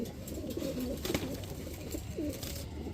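Lahori pigeons coo in a low, soft, repeated murmur through a steady background hum, with a brief louder rustle near the middle; no one speaks.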